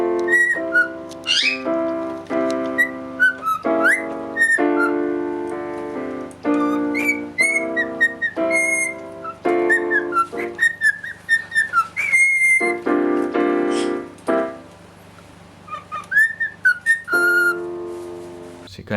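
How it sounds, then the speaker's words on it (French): A white cockatoo whistles short melodic tunes, clear pitched phrases repeated in bursts with brief pauses between them, close and fairly loud, sometimes sliding up or down in pitch. "Leurs cris sont très bruyants, mais ils sont quand même capables de répéter quelques mots, ou de siffler des petits airs"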